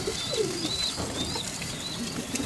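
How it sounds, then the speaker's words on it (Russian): A pigeon coos in soft, repeated rolling calls close by, with faint chirps and steady outdoor background noise behind it and no voices. "Но это не тот голубь."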